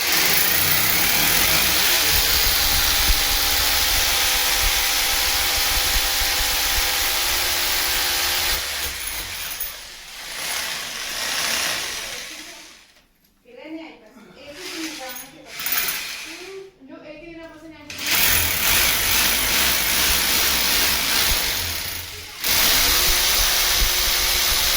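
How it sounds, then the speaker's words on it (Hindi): An electric drill bores holes into a kitchen wall to hang a Glen Pace Slim 60cm chimney hood. It runs as a loud, steady whine, breaks off midway into quieter gaps with faint voices, then resumes at full strength. "तो गाइस ड्रिल शुरू हो चुकी है।"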